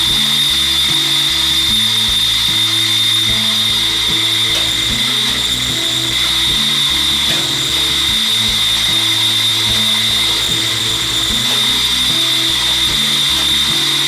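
A Mayflower 560 tire changer runs nonstop, a loud mechanical whine with a high steady tone and a choppy, stepping low-end pulse as its pedal-operated clamp works.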